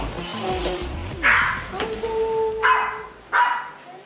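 Several Goldendoodle puppies yip and bark in short bursts, with a few higher whimpers, fairly close in a room, one or two barks overlapping.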